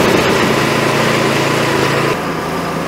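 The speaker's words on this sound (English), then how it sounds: "I'm gonna put it outside, let it run for probably about 10, 15 minutes, just to get it warmed up" An Ariens snow blower engine runs steadily and loud up close, a constant buzzing drone that dips slightly in pitch and level partway through.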